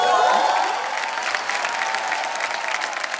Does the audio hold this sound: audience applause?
yes